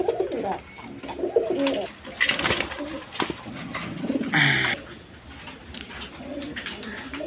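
Large pigeons kept in a loft, one nesting in a clay pot, coo in repeated low throaty bursts close by, along with rustling and a brief wing flutter, and no one speaks.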